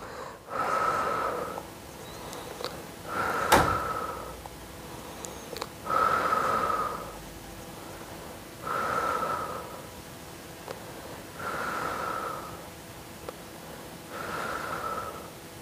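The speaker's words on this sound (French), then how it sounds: "Souffle en montant, inspire en descendant" Heavy rhythmic breathing during a strength workout, a forceful exhale on each rise and a quieter inhale on each lowering, repeating about every three seconds, close and alone.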